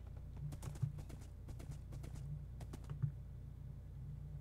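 A horse in the Minecraft video game gallops with quick, fairly faint hoof clops that come in clustered bursts over a steady low background hum.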